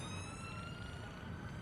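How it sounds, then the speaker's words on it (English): A faint, distant emergency siren wails steadily in the background of a dramatized audio story, a continuous far-off tone with no voices over it. "could hear a siren somewhere in the distance, and he prayed it was heading their way"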